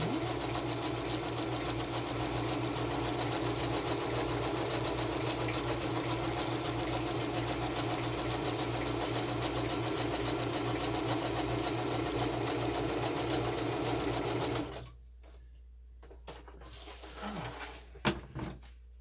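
A sewing machine runs a zigzag stitch around paper journal pages, a steady continuous motor hum with a fast mechanical rhythm for about fifteen seconds before stopping, followed by a few soft handling sounds.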